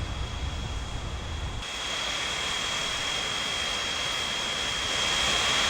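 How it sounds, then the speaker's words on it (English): A jet airliner in the Transport Fever simulation game comes in to land at an airport, its engine roar a steady, loud, wide wash with a thin high whine, growing slightly louder toward the end, no talking. "Here comes a plane by the sounds of it."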